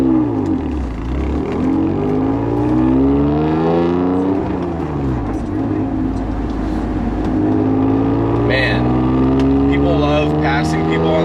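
Acura NSX engine and exhaust on the road, a loud, close engine drone that climbs and falls in pitch through gear changes, with a person talking over it.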